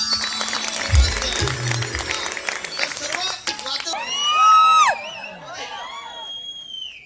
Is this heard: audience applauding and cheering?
yes